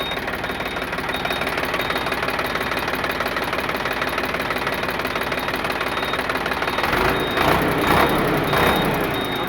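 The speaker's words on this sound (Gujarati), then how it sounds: "Sonalika RX 47 50 HP one honour 2022 model" A one-owner 2022 Sonalika RX 47 DI 50 HP tractor engine idles in a steady, dense diesel knock that runs evenly throughout, swelling slightly louder near the end, with no talking.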